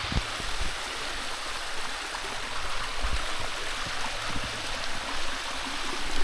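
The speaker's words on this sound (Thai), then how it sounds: "ตอนนี้มีน้ำนะ น้ำมีแล้วนะครับผม" Water flowing steadily at an outdoor site in Nong Bua Lamphu, a constant rushing stream with gurgling, loud and continuous throughout, no speech over it.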